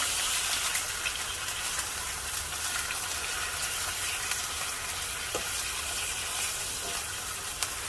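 Beer-marinated meat sizzles and spatters steadily in a hot pan, a loud, continuous hiss with faint crackles throughout and no pauses.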